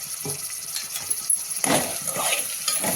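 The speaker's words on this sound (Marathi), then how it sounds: "आणि आता हे छान परतू देऊ आपण याला" Carrots cut lengthwise sautéing in a pan, a soft steady sizzle with scraping and clinking of a utensil stirring against the metal, with a brighter surge of frying partway through; no voices.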